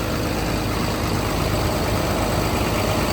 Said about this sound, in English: The engine runs real well.